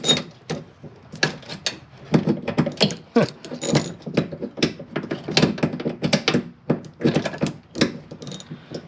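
A ratcheting socket wrench fitted with a deep well socket works on the outside rearview mirror of a 2016–2019 Chevrolet Cruze, giving close, rapid bursts of clicking with short pauses between strokes.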